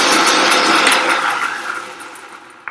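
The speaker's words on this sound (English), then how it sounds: "And blend away." Countertop blender whirs loudly while blending a salad dressing of olive oil, a steady grinding roar that slowly tapers off and cuts out near the end.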